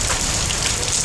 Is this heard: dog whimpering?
no